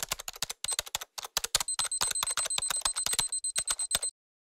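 Brisk typing on a computer keyboard while entering a site description, dense clicky keystrokes in quick uneven bursts with short pauses, close and clear, and a faint steady high electronic tone running through the middle stretch.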